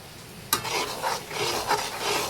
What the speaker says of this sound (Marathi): चला तर आता चांगलं परतून घेऊया आपण हे बघा तेल सुटायला लागले